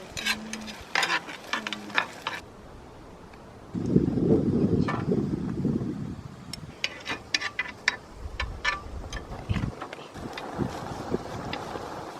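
Kimchi fried rice being stir-fried with egg and bulgogi at a rainy campsite deck in Inje, Gangwon: a loud burst of sizzling and scraping in the middle, with clinks and rustling around it and wind noise, no talk.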